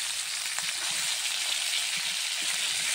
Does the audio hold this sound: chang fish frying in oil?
yes